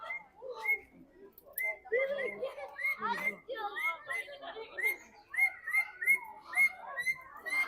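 A pair of blue parrots and other parrots in an outdoor parrot park in Leicester give a busy string of bright chirps, squawks and whistles, close by, with a voice talking faintly underneath.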